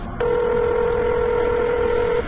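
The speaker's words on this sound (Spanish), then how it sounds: "justamente en ese momento sonó el teléfono" A telephone rings once, a steady electronic tone that starts abruptly, stays loud and close for about two seconds, then stops, with no talking.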